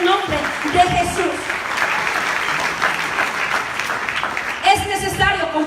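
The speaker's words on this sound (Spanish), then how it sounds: "Dale ese aplauso al Señor" Church congregation applauding in praise, a steady wash of clapping with a voice speaking over it at the start and again near the end.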